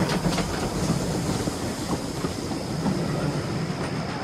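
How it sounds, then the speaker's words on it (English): A train rolls along steadily with a continuous rumble and faint clickety-clack of wheels on rails, heard at moderate loudness throughout with no voices. "Stepney puffed away into the night"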